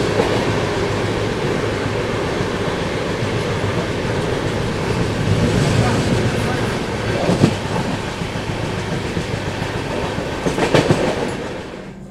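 The Vaishali Express rolls along steadily, its constant heavy rumble carrying occasional clattering wheel and coupling bangs, loud and close as if from inside the carriage.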